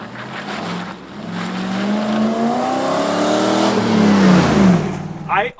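A V8-swapped car engine running on a standalone ECU revs up close by, its pitch climbing steadily and smoothly, peaking, then dropping back quickly near the end.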